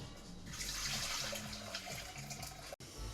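Boiling water from a kettle pours into a pan in a steady, soft splashing stream, fairly quiet and close, with a brief break near the end before it resumes.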